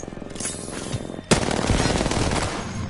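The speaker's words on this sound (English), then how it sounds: "I like how I hear him over there shooting." Gunfire in the Apex Legends video game, heard as a rapid automatic burst that is quieter at first, then a sharp loud crack followed by sustained rattling fire.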